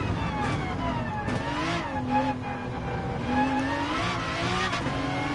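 A car engine in the Gran Turismo 7 racing game holds a steady, strained drone in fifth gear, its pitch wavering slightly as the car slows and sustains speed, loud and continuous throughout.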